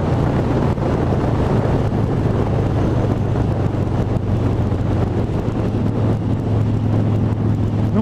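A Harley-Davidson Dyna Super Glide motorcycle rides flat out at about 180 km/h, its steady engine drone buried under heavy, continuous wind rush, loud and unbroken with no talking.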